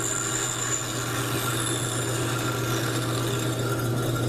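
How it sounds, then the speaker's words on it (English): A bandsaw with a fence runs with a constant steady hum and whine while trimming wooden tenons to width, loud and close throughout, with no talk. "I trim the tenons to width on the bandsaw with a fence set up"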